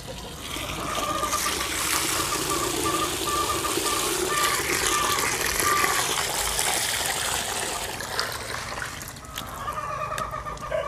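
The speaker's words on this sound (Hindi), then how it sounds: "एक दफ़ा हमने पानी इसमें डाल लिया, अच्छी तरह इसको धो के एक दफ़ा हमने इसका पानी निकाल लिया।" Water poured over wheat grains to wash them for hydroponic fodder, a steady, close, rushing gush that keeps going without a break for about eleven seconds.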